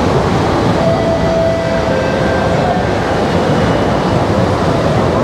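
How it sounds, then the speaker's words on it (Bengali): Interior of a Chennai airport metro train in motion, with a loud, steady rumble and rushing roar throughout and faint whining tones rising briefly, without speech. "মেট্রোতে রাইড কিন্তু স্মুথ ছিল"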